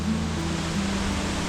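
Jogini waterfall, a mountain waterfall near Manali, pours as a steady, dense rushing roar of falling water, constant and fairly close with no voices over it.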